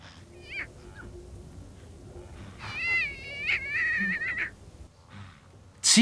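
High, thin mewling cries from a lion cub on open grassland, several in a row, the longest drawn out and wavering, over a faint background.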